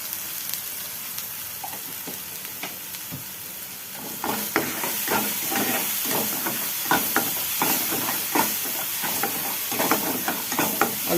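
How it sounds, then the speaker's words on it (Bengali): Mustard seeds fry in oil in a pan, giving a constant hissing sizzle; partway through, quick scraping stirring strokes begin and continue in a busy rhythm over the frying. "এবার সরষেটা একটু ভাজা ভাজা করে নেব।"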